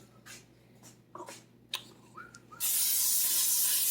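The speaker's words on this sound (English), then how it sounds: "I'm just going to spray it." Cooking spray hisses onto a hot pan in one steady, loud burst after a few quiet kitchen clicks and rustles.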